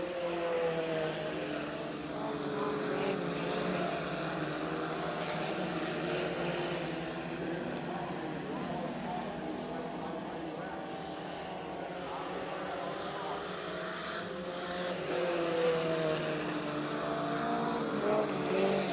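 Race cars circling the dirt oval at Path Valley in 1989, a steady, continuous engine drone with rising and falling pitch as cars pass, heard from a distance with no pauses.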